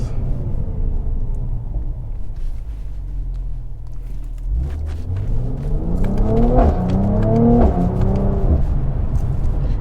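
A Mercedes C43 AMG idles with a low rumble, then its engine revs up through rising sweeps toward mid-range, loud and close, with crackling exhaust burbles layered over the climbing tones and no talking.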